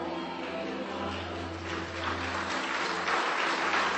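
A church congregation claps during a Sunday service, the applause starting moderate over a low hum and swelling into a fuller, louder wash of many hands.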